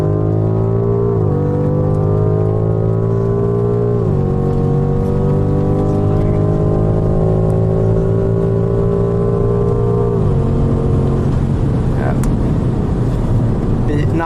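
A 625 HP BMW M5 Competition launches hard from inside the cabin. Its engine note climbs loudly and steadily, breaks at several distinct upshifts, then turns rougher and noisier near the end as the car slides.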